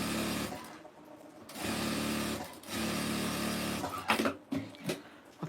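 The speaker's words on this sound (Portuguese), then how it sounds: "eu vou passar uma costura aqui agora" Sewing machine running in several steady bursts as it stitches a strip of fabric, with short pauses and a few handling clicks between runs, close and fairly loud, with no talking.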